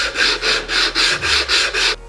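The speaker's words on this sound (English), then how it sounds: "you're just going to take your ring and sand it" Rhythmic rasping strokes of a segmented wooden bowl ring rubbed flat on sandpaper, eight even back-and-forth passes, close and loud, with no talking.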